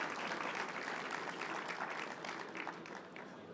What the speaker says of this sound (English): let's have a big round of applause for Billy.